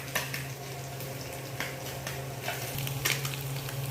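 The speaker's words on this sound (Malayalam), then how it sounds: "നമ്മുടെ മീൻ ഇവിടെ കിടന്ന് നന്നായിട്ട് പൊട്ടിത്തെറിക്കുന്നുണ്ട്" Small fish frying and crackling in a pan, a steady close sizzle with scattered sharp pops spitting through it, moderate and unaccompanied by speech.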